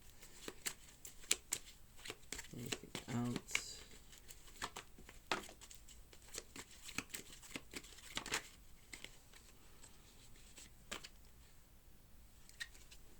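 Tarot cards from a commercial deck riffled and shuffled in quick bursts of crisp, papery flutters and taps, close by, with a brief murmur of talk partway through.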